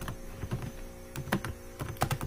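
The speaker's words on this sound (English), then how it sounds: "And I can type something more." Irregular bursts of clicky keystrokes on a computer keyboard, close and fairly quiet, with a faint steady mains hum underneath.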